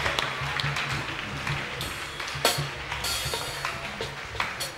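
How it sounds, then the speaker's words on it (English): A church congregation claps during a worship service, with scattered, uneven claps over a low hum and faint background voices, steady and moderately distant. "Clap for Jesus. Clap for Jesus."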